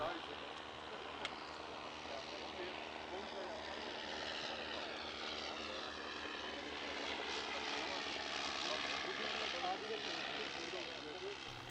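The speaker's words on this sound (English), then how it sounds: "Mikael Karlsson flew his replica Tunnan A, a licence-built version of the Blériot 11" A replica Tunnan A propeller aircraft, a licence-built Blériot XI, flies at a Swedish Air Force anniversary airshow, its engine drone a steady, moderately distant hum that swells slightly as it passes, while a narrator speaks over it.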